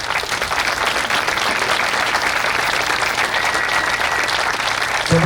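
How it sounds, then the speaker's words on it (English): Audience applause at the ribbon cutting for the Carousel of Dreams: dense, steady clapping from a crowd, loud and sustained throughout, with no pause or drop before the end. "Please give them an applause."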